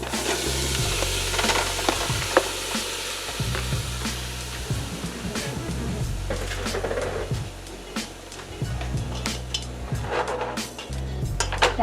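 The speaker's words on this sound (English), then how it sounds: "now we're gonna start cooking our shrimp" Shrimp and vegetables sizzle and fry steadily in a pan for cherry shrimp pasta, with a continuous hiss broken by occasional stirring scrapes and utensil clinks close by, and no talking.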